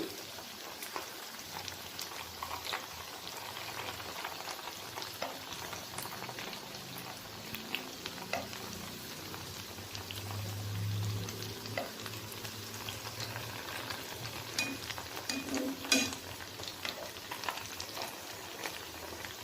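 Small rava mini vada frying in oil while being turned, a continuous close sizzle with occasional louder pops and soft spoon or utensil knocks, no talking.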